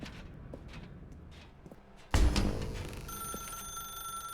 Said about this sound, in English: Now pick up the phone.